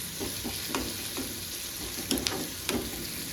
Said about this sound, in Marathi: अद्रक लसूणचं कच्चं जायपर्यंत थोडंसं नाही का भाजून घ्यायचं